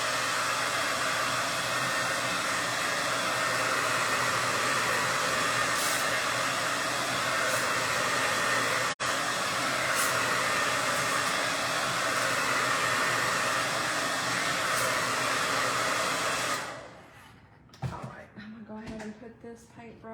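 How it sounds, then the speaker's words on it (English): A blow dryer runs steadily and loudly for about seventeen seconds, drying paint on a handmade candy corn pumpkin, then cuts off, leaving brief quiet clatter. "I'm gonna kind of hit it with the blow dryer, so I'm gonna make a little bit of noise."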